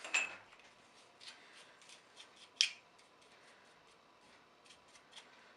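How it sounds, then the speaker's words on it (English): A cut metal part lifted out of a vise and metal chips cleared away, giving quiet scraping, rubbing and light metallic clinks in short irregular bursts, with one sharper clank midway, close and faint, no voices. "You can just pull it off of the vise now and clear out the chips a bit."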